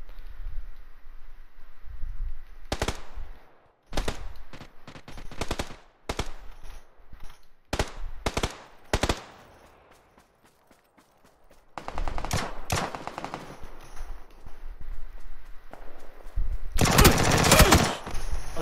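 Repeated PUBG gunfire, loud single shots and rapid bursts scattered across the stretch, with a quiet gap midway, then sustained heavy firing building to a dense loud volley at the end; no voices.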